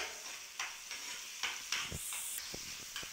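Chickpeas frying and being stirred in mustard oil, with a steady soft sizzle broken by scraping stir strokes and a few sharper clicks, close by with no talk.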